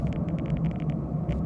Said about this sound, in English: I drive a Toyota RAV4.